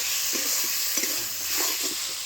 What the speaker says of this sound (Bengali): বেগুনটা মরে গেছে, একদম লাল লাল করে ভাজবো।